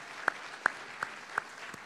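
Sparse, evenly spaced single claps from a graduation audience, about five distinct hand claps over faint background noise.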